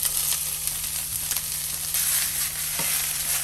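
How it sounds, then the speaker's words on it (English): Onions, red peppers and green onions sizzle steadily in an oiled pan, a continuous hiss of frying broken by faint clicks and stirring scrapes, with no one talking. "We're going to oil up our pan again and throw in our onions. red peppers,"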